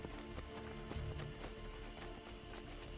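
Horse galloping in Assassin's Creed Brotherhood, a quiet rhythmic clip-clop of hooves running at a steady pace.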